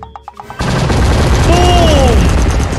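Rapid, dense gunfire from a video game weapon pounds a castle. After a few scattered opening shots it becomes a loud, continuous roaring barrage, with a bright whistling tone rising above it.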